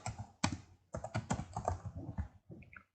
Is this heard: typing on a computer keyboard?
yes